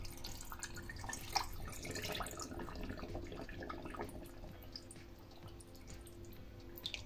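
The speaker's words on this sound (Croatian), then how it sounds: "Sada kad se sol otopila, vodu sipajte u kupus." Salt water pours steadily into a container of cabbage, a soft continuous trickle and splash that holds at an even, fairly quiet level with no voices.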